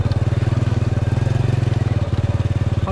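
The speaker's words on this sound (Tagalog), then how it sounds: "Ang ating motor po eh Honda 100." A 12-year-old Honda 100 motorcycle chugs close up with a rapid, regular low putter that stays steady throughout, with a slight dip in the beat just past the two-second mark.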